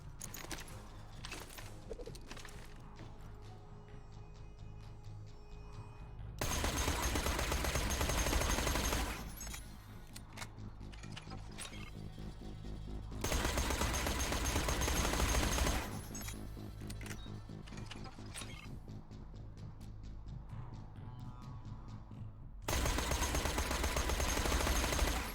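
Submachine gun fire in Borderlands 2, heard as loud sustained bursts of a few seconds each, broken by gaps filled with quieter game sounds and music.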